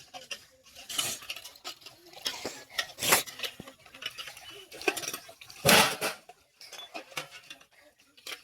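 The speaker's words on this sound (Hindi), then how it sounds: "तो वही सारे बर्तन हैं, तो उन सारे बर्तनों को मैं धो ले रही हूँ।" Dishes and utensils being washed by hand in a home kitchen, with scattered clinks and clatters of pots and cutlery, some sharper knocks standing out, over a running patter.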